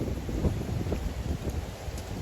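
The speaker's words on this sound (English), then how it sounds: "like this wind that's happening." Steady wind blowing outdoors on a mountain, a continuous low rumbling buffet with gusty swells and no clear pauses.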